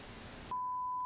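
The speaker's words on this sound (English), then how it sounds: "pink noise" An audio analyzer app's built-in generator plays pink noise, a steady, rushing hiss heavier in the lows. After half a second it cuts off and a single pure beep tone follows.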